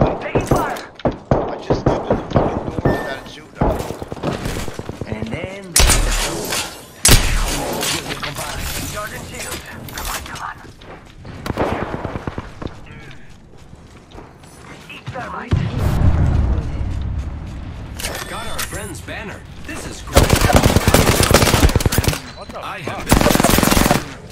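Rapid bursts of automatic gunfire in a live-streamed shooter game, loud and dense, with shattering impacts and scattered single shots, while a player talks over the action throughout.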